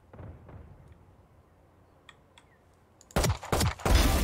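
Gunshots ring out in the shooter game Valorant: a few faint shots early, then a loud cluster of sharp, close gunfire near the end.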